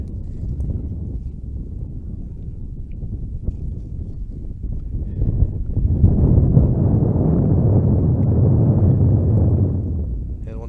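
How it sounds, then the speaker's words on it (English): Gusting wind at an outdoor high school baseball field, a low rumbling roar against the microphone that swells louder in the second half and then eases slightly. "You can just hear the wind."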